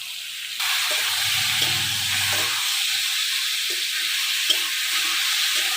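Vegetables frying in a pan with salt and turmeric give a steady, close sizzle, with a few soft scraping stirs underneath. The sizzle starts suddenly after a brief quiet moment.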